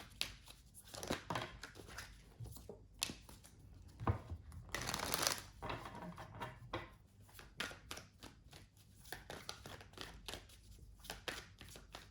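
A deck of tarot cards is shuffled by hand up close, a quiet, steady run of riffling and sliding card flicks with a louder burst midway, no voices heard.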